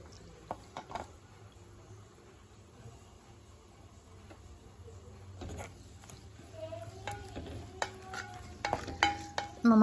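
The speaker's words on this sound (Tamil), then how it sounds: "இப்போ கிண்டி விட்டு கொஞ்சம் வதங்க விடுங்க" Big onions sauté in a clay pot for a dried-fish curry, a faint, quiet sizzle punctuated by scattered spoon clicks and scrapes that grow louder and busier toward the end.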